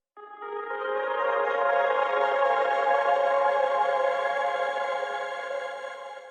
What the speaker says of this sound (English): I played in this nice melody with the Labs guitars and routing it to Ascend